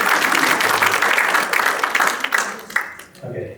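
Audience members at a health talk applaud a speaker in a full burst of clapping that thins out and fades toward the end, leaving a few scattered claps.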